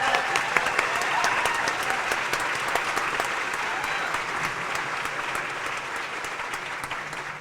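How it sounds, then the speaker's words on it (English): A luncheon crowd at a community event gives sustained, full applause, a thick wash of many hands clapping at an even level for several seconds. "can we just give this young man another round of applause?"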